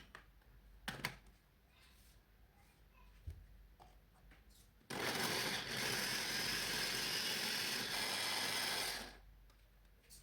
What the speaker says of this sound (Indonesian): Diratakan dulu kemudian lanjut mau di blender.